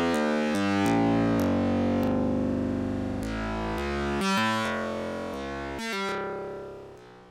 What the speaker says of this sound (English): because of the Karplus Strong synthesis, you can set that decay and it gives it sort of a reverb-like quality